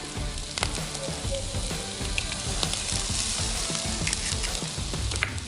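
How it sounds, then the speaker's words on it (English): An egg fries on a hot skillet beside pork sisig, giving a loud, continuous sizzle with crackling pops spread through it. The sound is close and carries on without talk. "And the heat of the skillet will cook it."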